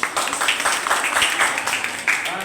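Audience clapping at a Jaiswar community student honour ceremony in Thane, Maharashtra, a short burst of uneven claps mixed with some voices in the room.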